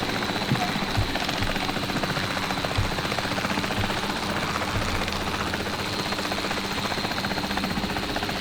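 Helicopter in a dinosaur-hunting video game, with a steady, loud rotor and engine drone that fills the whole stretch, and a few soft thumps rising above it.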